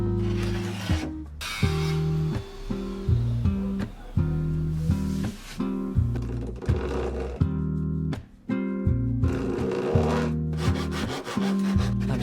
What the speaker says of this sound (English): I'm sawing the fishtail to shape.